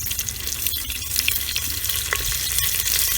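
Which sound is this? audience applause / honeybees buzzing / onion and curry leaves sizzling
onion and curry leaves sizzling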